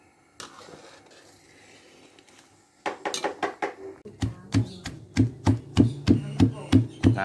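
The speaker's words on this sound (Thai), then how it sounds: "เสร็จแล้วก็มาโขกกันครับผม" Steady rhythmic pounding of a worn old stone mortar and pestle crushing chili paste for pla ra dip, close and loud. Quiet handling comes first, then regular heavy thuds that grow stronger and faster.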